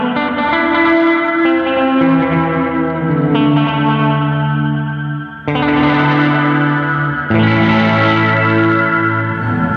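A Fender Reflecting Pool pedal pushes a guitar through extreme layered modulation, giving loud sustained chords that warble and shimmer with chorus and echo. The sound runs without a break, with a brief dip before each new chord swells in.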